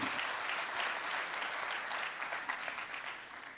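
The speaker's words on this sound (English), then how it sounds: "a round of applause for our winner this morning" An audience applauds a winner at an NSSF Uganda event: a dense, sustained wash of clapping at steady volume that fades slightly near the end, with no voices above it.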